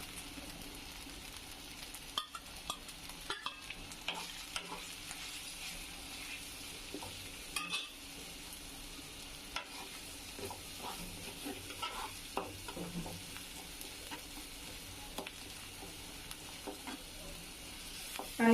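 Turmeric, chili and coriander powders fry in oil with already-browned ginger and garlic for a Dhaka-style beef brain bhuna, a soft, steady sizzle broken by repeated light stirring scrapes and taps over a long stretch.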